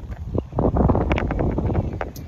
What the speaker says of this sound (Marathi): एकदम गार वारा सुटलेलं आहे गावाकडे